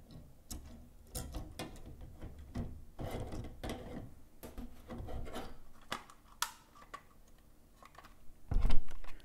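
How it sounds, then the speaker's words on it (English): Small plastic and metal parts of a Moza R5 sim-racing wheel paddle assembly snapped and clicked back together by hand, giving a run of irregular sharp clicks and light rubbing handling noises, with a louder knock near the end. "So we're going to snap all this back together."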